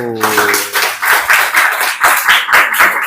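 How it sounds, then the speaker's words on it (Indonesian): Classroom applause for a student group, a burst of many hands clapping steadily for about three seconds after a brief spoken phrase at the start. "Tepuk tangan untuk kelompok 1."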